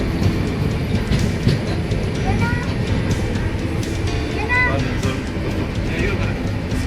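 A steady rumble of an evening passenger train in Kerala rolling along the tracks, with faint rail squeals and rhythmic clatter, heard from inside a moving carriage.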